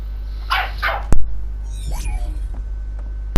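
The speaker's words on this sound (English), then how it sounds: "Dog's barking." In the game Ark Survival Evolved, a tamed male dog creature barks twice in short bursts, fairly close and loud, followed by sharp clicks and a whooshing effect, with no talking.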